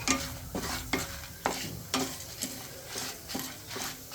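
Poppy seeds, cinnamon, cloves and cardamom dry-roasting in a pan, stirred in a regular rhythm of scraping strokes about every half second over a soft background sizzle, with no talking.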